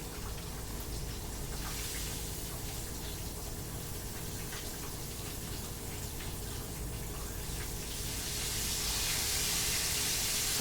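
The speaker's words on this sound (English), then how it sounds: "About to get these other pork chops out of this grease." Pork chops fry in a pan of hot grease, giving a steady, dense sizzle that stays even and close throughout and swells slightly louder near the end, with no talking.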